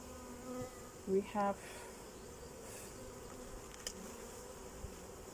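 Honeybees buzzing around an opened hive as the beekeeper splits one colony into two, a steady faint drone throughout with a few brief words spoken over it.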